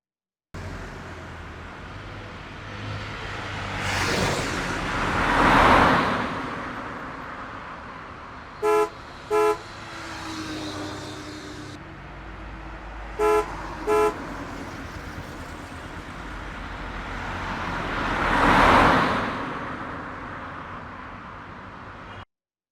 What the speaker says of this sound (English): the frenetic buzzing and humming and hooting and aggression